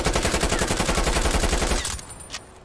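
Assault rifle in Call of Duty: Cold War firing a long, loud continuous burst of rapid evenly spaced shots that stops abruptly, followed by a faint mechanical click.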